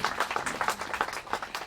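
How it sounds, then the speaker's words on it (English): Audience at a bridge naming ceremony claps in a brief burst of applause, moderately loud and fairly close. "Give him a loud applause, please."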